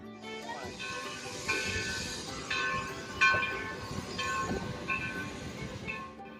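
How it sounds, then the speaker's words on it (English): Heritage train pulling away with open-air log cars and covered cars, a steady rumble of rolling wheels and squealing metal at moderate distance, with passenger chatter and a faint horn over it. "Looks like our train is about to depart."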